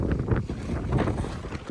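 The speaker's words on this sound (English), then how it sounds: "Super windy. We have a big gust coming right there." Strong wind gusts buffet the microphone outdoors beside pitched tents, with a loud, continuous low roar that swells and surges in waves, no voices present.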